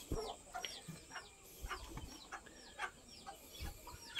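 Free-range laying hens cluck and chatter in short repeated bursts, several birds close by, with soft rustling in between.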